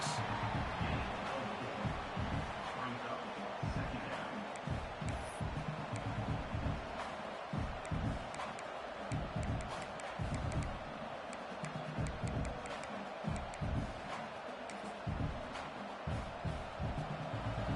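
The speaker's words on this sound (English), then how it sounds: "the crowd coming to life here, trying to help this defense down in the red zone" A college football stadium crowd during Oregon versus South Carolina roars steadily as the defense sits in the red zone, a broad sustained rumble of cheering with rhythmic pulses throughout.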